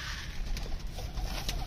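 Pet pigeons coo softly while being fed grain, a low murmuring call close by over a continuous noisy background, with no talk.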